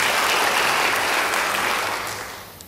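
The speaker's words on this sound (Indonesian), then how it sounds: "Yang percaya beri tepuk tangan bagi Dia." A church congregation applauds during a sermon, a full sustained burst of clapping that gradually fades toward the end, with no speech over it.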